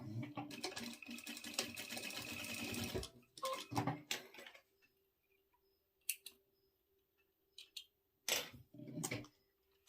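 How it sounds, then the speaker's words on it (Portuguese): A sewing machine stitches back and forth across a satin cord, a close, busy burst of stitching for three seconds, then scattered clicks and quiet handling noises. "E aqui eu vou fazer uma costurinha com retrocesso."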